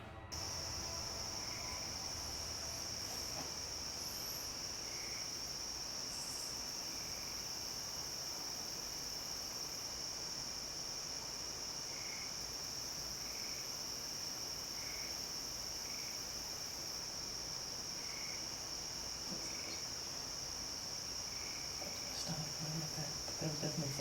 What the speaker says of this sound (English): the sound of the bugs and crickets chirping in the background